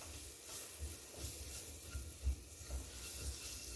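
Butter sizzles in a pan where flour is being roasted for a milky squash soup: a faint, steady crackling hiss with soft low knocks of stirring scattered throughout, no voices.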